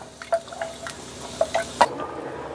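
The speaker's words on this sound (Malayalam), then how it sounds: "ഇത് നല്ലതായിട്ട് തിളയ്ക്കട്ടെ." Chickpea curry bubbles in a pot, a few close, irregular popping blips and plops over a low simmering background.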